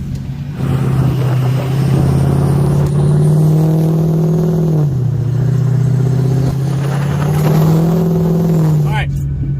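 An off-road truck engine hums and revs in four-wheel drive on a snowy mountain trail in a blizzard, a steady close drone that rises and dips in pitch as the truck climbs, with voices over it.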